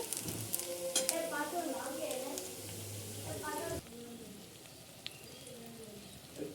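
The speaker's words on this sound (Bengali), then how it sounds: "পেঁয়াজটা ভাজা ভাজা হয়ে গেছে।" Onions sizzle in oil in a pan under a woman's speech, with a clatter of stirring; the hiss continues more quietly once the talking stops.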